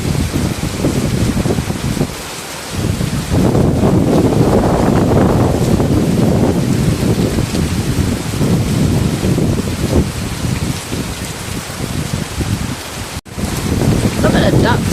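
Heavy rain pours steadily outdoors in Kaohsiung, Taiwan, a loud, dense wash with wind buffeting the microphone throughout, briefly dipping before resuming at full strength.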